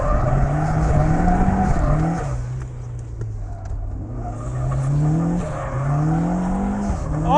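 A turbo Mazda Miata sliding on a race track, its engine note rising and falling in a loud drone while tires squeal and scrub continuously as the car drifts, close and without talk.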